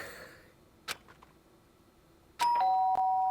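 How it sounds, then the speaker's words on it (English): Doorbell in Danganronpa: Trigger Happy Havoc, a single clear two-tone electronic chime ringing out sharply after a quiet stretch with a couple of faint clicks, the tones sustaining loudly to the end. "Ding dong. Someone's at the door."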